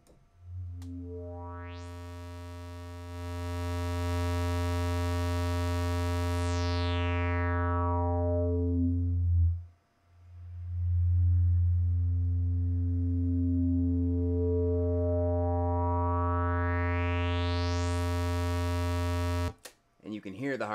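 A Moog Slim Phatty synthesizer with its resonance raised sustains a loud, buzzy low tone while a filter sweep pulls the harmonics down to a dull, nearly muted point, then opens them back up to full brightness before cutting off.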